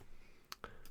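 A couple of quick, faint mouse clicks at a computer, close and dry, with near silence between them.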